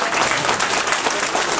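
A concert audience greets a singer with loud, dense applause, a steady wash of many hands clapping at once that carries evenly through the whole moment.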